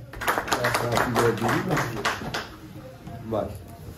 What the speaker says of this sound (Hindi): तो आपकी भरपूर तालियों में साकिब साहब।